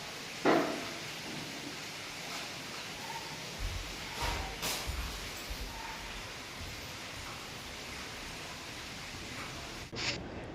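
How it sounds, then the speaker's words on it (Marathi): Rain falls outside a home during a monsoon-season day, a steady, faint broadband hiss that runs the whole time with no voices. "हे बघा आता आम्हाला काही पाऊस पण येतो आहे"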